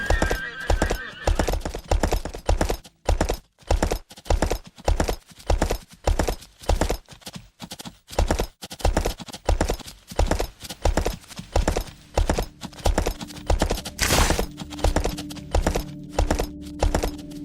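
Horse hooves clip-clop in the video game Kingdoms, a loud, rhythmic gallop of evenly spaced thuds that runs throughout, with a brief whinny and faint background game sounds.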